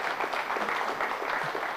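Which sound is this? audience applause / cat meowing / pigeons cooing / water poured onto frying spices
audience applause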